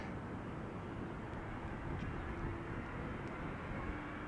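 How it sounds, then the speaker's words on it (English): A KLM Boeing 777 rolls onto the runway at Amsterdam Schiphol, its jet engines making a steady, fairly distant low roar that holds level the whole time, with no talk. "Meanwhile, entering the runway is a KLM triple."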